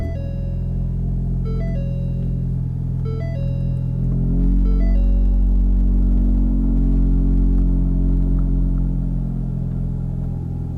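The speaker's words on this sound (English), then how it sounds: "I'm going to start up the car real quick so y'all can hear it." Heard from inside a Ford Mustang EcoBoost, a few chime tones give way to a cold start whose exhaust swells into a deep, loud, steady idle rumble.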